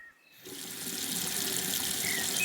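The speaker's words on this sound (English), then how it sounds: "Auntie Grace fills the watering can." Water runs from a garden tap into a watering can, a steady broadband rush beginning after a brief quiet start and holding at an even level for a couple of seconds, with no voices.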